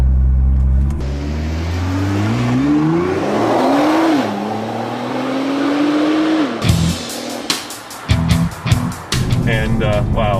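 A 2015 Nissan GT-R Nismo in R mode accelerates hard with a loud, climbing engine note through several gear shifts, then cuts off into sharp bursts and crackles; voices talk around it.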